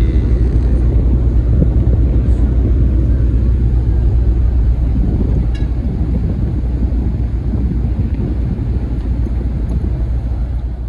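The DLU Dharma Ferry 5 ship's engine runs as the vessel reverses and maneuvers in port at Balikpapan, a loud, constant low rumble mixed with wind buffeting the microphone.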